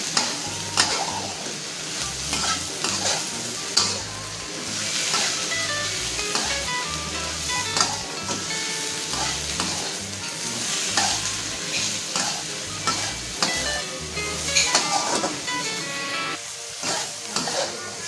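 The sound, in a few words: spice paste sautéing in a pan for mackerel curry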